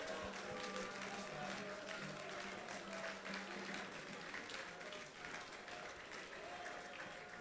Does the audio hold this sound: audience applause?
yes